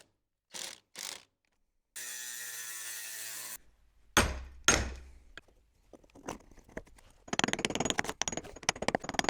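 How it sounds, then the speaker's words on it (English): Screws are driven into wood with a cordless drill-driver during floor repair work, sounding as separate motor whirs in short bursts with clicks and knocks in between, up close and with no talking. "I'm going to whack a couple of screws in"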